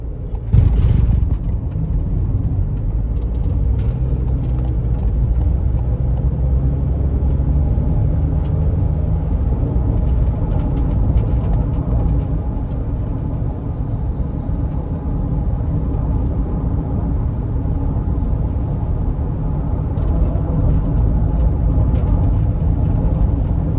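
A Ford Transit-150 conversion van with a 3.5 liter twin turbo engine pulls hard with a steady, loud interior drone and road rumble, with no talk over it.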